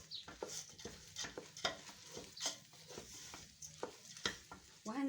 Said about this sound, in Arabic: بحب اشوحه كده مع التوابل